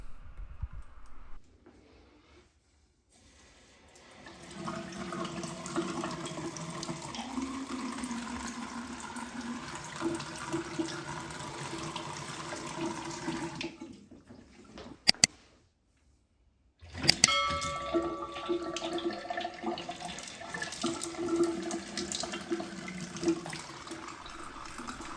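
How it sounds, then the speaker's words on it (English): A newly installed Moen kitchen faucet runs with a steady hiss of flowing water that stops briefly, then resumes just as steadily. "I'm going to turn the water on for about a minute"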